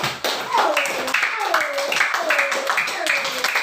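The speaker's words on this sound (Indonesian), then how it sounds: "Ya, kita beri tepuk tangan ya." Classroom of students clapping together in a dense, continuous round of applause, fairly near and steady throughout, with rhythmic falling whistle-like tones over it.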